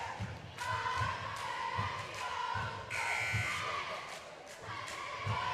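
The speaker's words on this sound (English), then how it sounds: "Cheerleaders loud, doing a good job cheering on the Lady Dogs" Cheerleaders shout and chant rhythmically during a timeout at a high school girls' basketball game, their voices filling a gym with a steady repeated beat of thumps and crowd noise.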